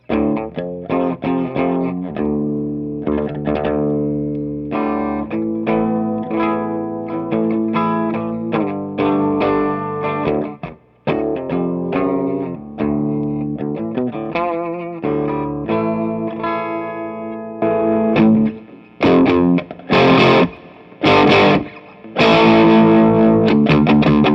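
Loud, gritty overdriven electric guitar in drop D tuning through a Vox tube amp plays a chunky riff with low chugging notes and crunchy chords, ending in a few sharp, stabbing hits.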